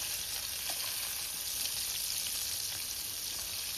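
Prawns frying in a pan just after being flipped, giving a steady, close hiss of sizzling oil with a few faint pops and no voices.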